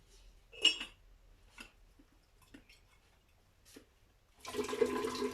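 Hot water just off the boil pours over dark tea leaves to rinse and warm them, a steady splashing pour that begins after a few faint clinks of tea ware.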